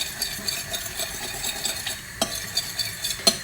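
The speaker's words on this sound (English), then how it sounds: "and then you're going to mix it in a bit" Cheese sauce for cacio e pepe being stirred in a pan, a soft steady scraping and sloshing with gentle sizzle beneath and a couple of sharper utensil clicks against the pan.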